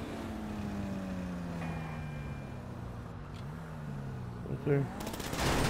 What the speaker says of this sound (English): I'm shooting him, man.